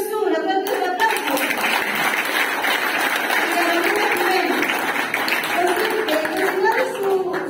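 A crowd claps steadily at a political campaign event in Ecuador, brisk continuous applause with some voices and cheers mixed in, sustained for the whole stretch.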